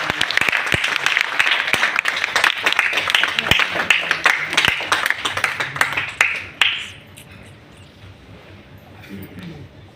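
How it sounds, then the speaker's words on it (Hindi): Audience applause at a wellness company training event, dense clapping from a crowd that runs loud for about six and a half seconds, then cuts off sharply, leaving quiet room noise with faint talk. "ताली बजाइए भाई।"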